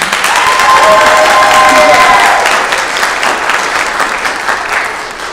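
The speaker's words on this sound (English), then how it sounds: "I guess we'll clap after each one" An audience claps steadily for a speech contest finalist in the Talking Tigers contest, the applause loud and sustained for about five seconds with some crowd noise and a few whistle-like tones early on, tapering slightly toward the end.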